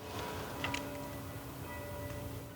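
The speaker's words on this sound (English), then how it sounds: "the bells are going off" Church bells ring out a few faint, distant strikes outdoors near a pretty church, set over a steady background hum with no talking.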